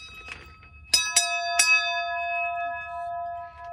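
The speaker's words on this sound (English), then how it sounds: "There's also the bell. Ring the bell." A boat's safety bell is struck three times in quick succession, each clear metallic ring overlapping the last and then fading slowly, close and alone.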